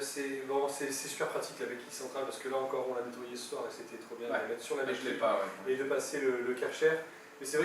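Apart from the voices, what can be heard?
No distinct noise like a dog, phone or traffic.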